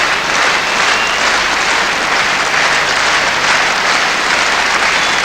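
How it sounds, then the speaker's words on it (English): Dense, steady stadium crowd applause and cheering for a hammer thrower at the 1986 European Championship, a loud continuous roar filling the whole span with no break. "He'll get the same cheer."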